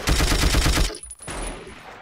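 A Zastava M53, a Yugoslav copy of the MG42 machine gun, fires in a Battlefield game as one loud, very rapid burst of evenly spaced shots that cuts off abruptly after about a second, leaving a faint tail of battle noise.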